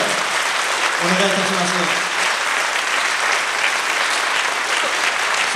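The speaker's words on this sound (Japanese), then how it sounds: "万来の拍手で" A crowd of citizens at a Japanese peace declaration gathering applauds steadily and densely. A voice speaks briefly over the clapping early on, and the applause carries on at an even level.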